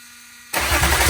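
A BMW M57 diesel engine, with a loose ECU plug connection, is cranked and catches: quiet hum, then a sudden loud rough churn that keeps running, close by.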